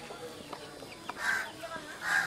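Chickens in a Nepalese village near Nagarkot, outside Kathmandu, give two short bright clucks about a second apart over quiet rural background sound.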